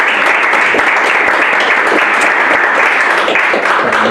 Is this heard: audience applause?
yes